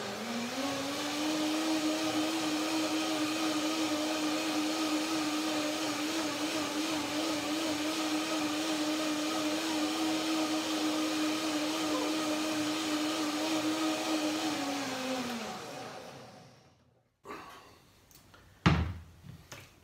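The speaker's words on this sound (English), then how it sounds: "One more blender dance." A blender whirs steadily for about fifteen seconds, pureeing an almond mulberry cream dressing, then spins down and stops, followed by a few clatters and knocks as the jar is handled.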